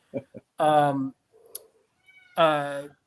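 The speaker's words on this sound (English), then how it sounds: "my cat is going nuts in the background here" A domestic cat meows loudly twice, the calls close by and separated by a short pause, with a faint click between them.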